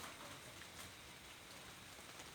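Steady rain falls over a garden plot, a soft, even hiss of drops spread across the whole clip with no voices, quiet and distant-sounding.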